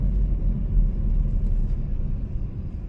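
A Jeep Avenger drives on the road in Mallorca, giving a continuous low rumble of engine and tyre noise inside the cabin, steady and moderately loud with no voices.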